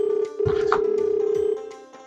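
A phone rings indoors in a Sylheti comedy drama, a steady, loud electronic tone that holds for about a second and a half with a short break near the start, then fades out.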